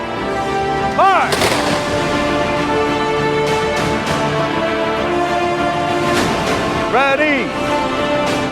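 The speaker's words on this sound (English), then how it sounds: "prepare for the 3-round volley" An honor guard fires a ceremonial three-round rifle volley at a 9/11 remembrance ceremony, with sharp loud cracks echoing and ringing out and a spoken command in between.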